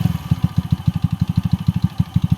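Freshly carb-tuned 50cc scooter engine idling close by, a quick even low putter of evenly spaced pulses, running smoothly on its own.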